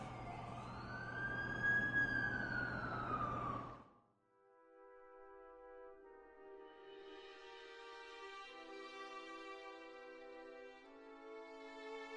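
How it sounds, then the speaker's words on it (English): An ambulance siren in the Amazing Spider-Man 2 video game wails loudly for about four seconds, then gives way to a softer sustained chord of game music. "That's the ambulance I called."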